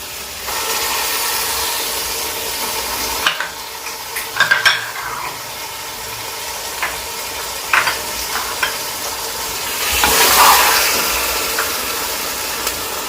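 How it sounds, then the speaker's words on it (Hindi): Spiced kaleji (liver) masala frying in a pan, a steady sizzle with occasional scraping and clinking from stirring and a louder hiss surge near the end, close and without talk. "इसका कलर चेंज होने तक हम इसको भूनेंगे।"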